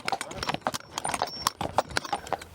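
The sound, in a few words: draft horse hooves clip-clopping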